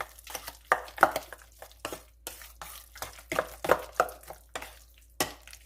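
Potato casserole mixture with mozzarella is stirred in a bowl, a spoon scraping and clacking against the sides in uneven bursts of close, wet strokes with brief pauses between them.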